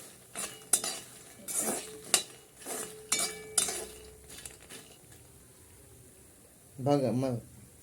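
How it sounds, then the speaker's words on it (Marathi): Makhana (fox nuts) roasting in ghee: a series of distinct clinks and scrapes of a spoon against the pan over a faint sizzle, with a short burst of voice near the end. "भाजून घ्या, तुपात थोडेसे भाजून घ्या"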